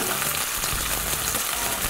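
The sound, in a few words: sesame seeds popping while searing tuna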